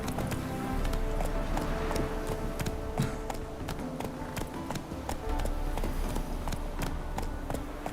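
Roach, the horse in the video game Witcher 3, gallops with rapid, steady hoofbeats in a driving clip-clop rhythm, loud and close over a low game backdrop, continuing without pause.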